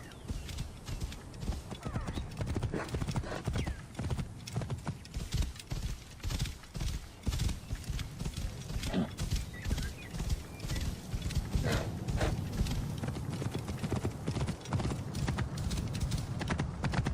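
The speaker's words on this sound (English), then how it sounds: "That's my horse!" A horse's hooves clip-clop steadily and it whinnies in the Assassin's Creed Origins video game, with continuous trotting footfalls close by and faint background activity.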